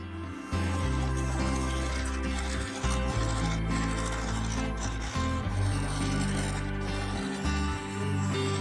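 A scraper cuts a spalted beech lidded bowl on a wood lathe, working the side and up under the rim. Close, steady rasping runs over the lathe's drone, broken by brief pauses as the tool lifts and recontacts.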